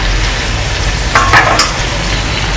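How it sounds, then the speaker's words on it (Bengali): Marinated lote fish and slit green chillies fry in hot mustard oil with a loud, steady sizzle and a brief clink partway through. "তেলটা গরম হয়েছে, তেলের মধ্যে এই মাছ মাখাটা দিয়ে দিব।"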